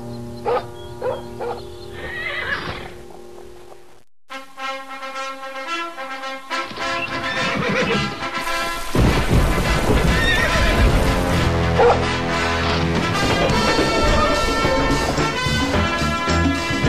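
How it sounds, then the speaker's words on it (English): A Clydesdale horse whinnies loudly and close, then hooves clip-clop steadily over a swelling orchestral music bed that builds to fill the background. "final horse for this year's hits team is Thunder."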